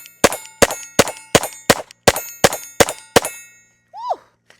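Nine sharp shots from a Glock 44 pistol chambered in .22 LR ring out at a brisk, even pace, each a loud crisp crack, followed by a short rising whoop from a voice.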